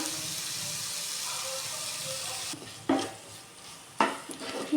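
Ginger garlic paste and salt are stirred in a hot pan for a potato roll samosa filling, first a steady sizzle and then, after it quiets, two sharp scraping stir strokes, close by.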